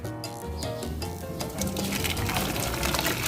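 Water poured into a cooking pot for boiling pork, a continuous splashing fill heard up close and fairly loud, with no talk over it.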